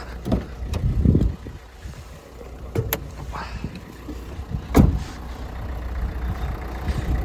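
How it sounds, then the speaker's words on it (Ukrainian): A 1.5 dCi diesel engine in a 2014 Renault Grand Scenic runs steadily at idle under an open bonnet, a low continuous rumble with a few sharp clicks and knocks over it and no talking. "Акумулятор в гарному стані, двигун працює добре."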